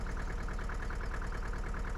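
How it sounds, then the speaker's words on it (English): A tractor engine in the Farming Simulator 2013 video game gives a steady, even drone with a faint regular pulse, running alone without talk. "It's like the slowest tractor of all time."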